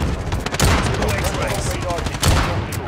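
Gunfire in the shooter game Modern Warfare, a loud dense fusillade of rapid shots and impacts filling the whole stretch, with a voice mixed in.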